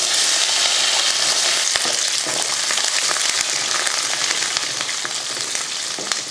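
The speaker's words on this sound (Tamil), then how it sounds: "இப்போ நம்ம சாம்பார் தாளிக்கிறதுக்கு எண்ணெய் ஊற்றிட்டு காஞ்சதுமே கடுகு போட்டு நல்லா பொரிய விட்டுறலாம்." Mustard seeds and small onions fry in hot oil for sambar tempering, giving a dense, bright sizzle with scattered pops and crackles that stays close and steady, easing slightly toward the end.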